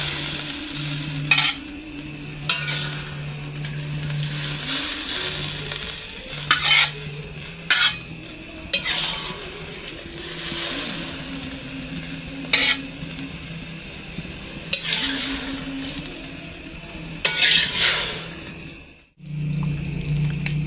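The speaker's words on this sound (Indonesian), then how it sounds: "Kita goreng tempe dulu." Tempeh frying in a pan with a steady sizzle, punctuated by repeated scrapes and clinks of a metal utensil stirring against the pan, close and busy throughout.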